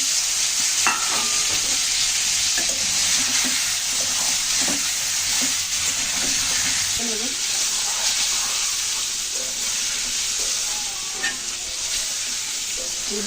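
Hard-boiled eggs marinated with turmeric, chili powder and salt frying in hot oil with a little turmeric, a loud continuous sizzle close up with scattered stirring scrapes and light clinks.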